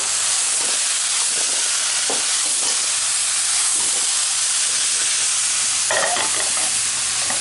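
Squirrel meat and sweet potato chunks fry loudly in a hot pan, a dense steady sizzle and hiss with occasional scraping stirs from a spoon, close by and without talk.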